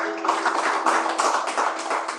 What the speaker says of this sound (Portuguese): Palmas para Jesus, irmãos.